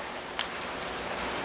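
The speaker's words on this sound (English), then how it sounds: "you can probably hear that rain coming down now" Steady rain hisses down close by, a dense even patter with a couple of sharper drops standing out.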